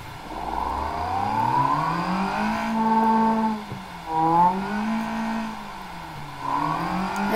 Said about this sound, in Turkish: Evet arabanın sesini dinlettim arkadaşlar size.